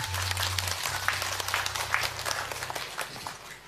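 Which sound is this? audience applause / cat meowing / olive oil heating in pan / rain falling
audience applause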